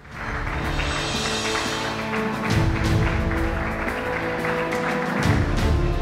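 An audience at a panel event applauds, a dense, sustained wash of clapping that stays loud and even for several seconds before tapering slightly.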